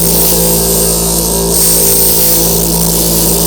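A 600 grit lapidary wheel hums with a constant high whine as it grinds and shapes a charoite cabochon; loud, close and steady, with no speech.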